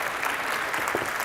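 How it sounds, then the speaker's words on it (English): Brief burst of audience applause at a talk, a dense, even patter of clapping that stays steady and fairly loud for about a second. "a round of applause for Jessica being vulnerable with us."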